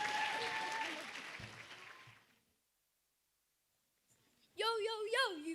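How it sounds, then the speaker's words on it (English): Clapping after a children's rap about Times Tables Rock Stars and Numbots fades out over about two seconds, then comes a stretch of silence before a voice starts speaking. "Now you have to clap."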